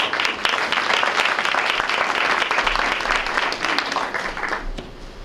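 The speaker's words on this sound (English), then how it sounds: "Please give them a round of applause." Applause from an audience at a city council meeting, a dense wash of clapping at steady volume that gradually tapers off toward the end.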